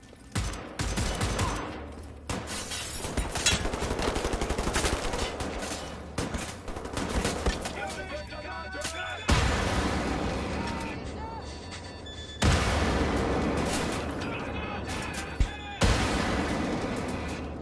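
Grenade explosions and gunfire in Wolfenstein: The New Order, dense continuous automatic fire with repeated loud blasts that cut in abruptly, sustained and close throughout with a voice talking over it.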